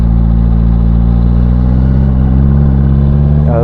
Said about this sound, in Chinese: 我們來兩指輕開油感受一下